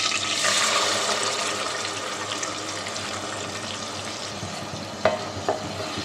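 A paste of green chili, coconut, cashew and ginger fries steadily in a pan for pointed gourd rezala, a continuous close sizzle with soft stirring scrapes and two sharp clinks near the end.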